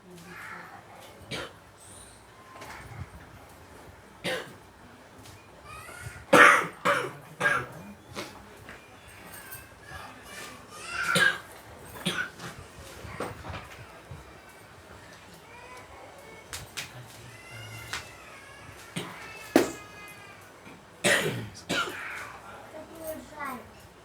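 Someone coughs repeatedly during a quiet religious gathering: scattered sharp bursts, a few louder than others, over a soft background of murmuring and shuffling.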